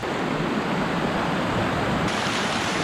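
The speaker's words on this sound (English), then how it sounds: "Seems to be a waterfall." Steady broadband roar of a waterfall near the Helmet Top in Walong, loud and continuous without pause, with no voices over it.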